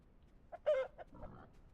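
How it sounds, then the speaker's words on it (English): A chicken in the survival game The Isle gives a few quick, faint clucks, one brief louder squawk standing out in an otherwise quiet scene. "It's a chicken. It's fine. Relax, dude. It's just a chicken."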